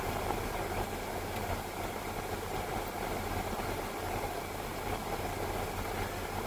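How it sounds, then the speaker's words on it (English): A big exhaust fan runs on a mall rooftop, a steady, fairly faint mechanical hum and whir with a broad airy hiss, unchanging throughout and no voices. "It's got a big, ugly exhaust fan, you know, for the, I guess it's for the power exhaust."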